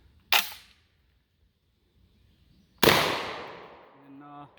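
Two sharp shotgun blasts from a GForce GFY 1, the second louder with a long ringing decay, followed by the clack of the action cycling.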